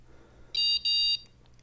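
Two close, sharp electronic alert beeps sound from a Wahoo Elemnt Roam bike computer paired with a Garmin Varia radar, clear and fairly loud over a low steady hum.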